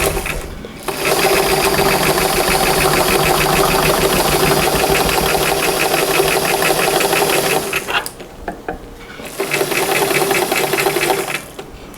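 A sewing machine runs loud and close as it stitches forward on a Chanel jacket, a fast even mechanical whirr that stops briefly near the end and then starts again.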